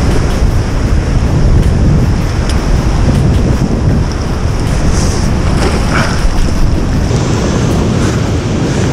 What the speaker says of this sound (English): it's big seas today